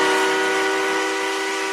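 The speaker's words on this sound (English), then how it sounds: "Here's the whistle that was used for Percy." A steam engine whistle used for Percy blows one loud, steady sustained tone that lasts the whole short stretch and does not break or fade.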